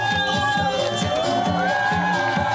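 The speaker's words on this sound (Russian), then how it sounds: "Зрители овациями встречают артистов" A concert crowd at a city radio station launch celebration cheering and whooping for performers, a loud, sustained roar of voices with music playing underneath throughout.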